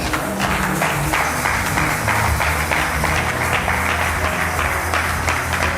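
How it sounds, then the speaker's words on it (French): A church congregation bursts into sustained applause, dense steady clapping from many hands filling the room at a constant loud level throughout, with no speech over it. "Est-ce que quelqu'un peut applaudir pour la gloire de Dieu?"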